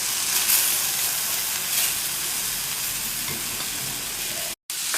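Grated radish added to a coconut and ginger mixture sizzles steadily in a hot pan, a loud, continuous frying hiss with a brief break near the end.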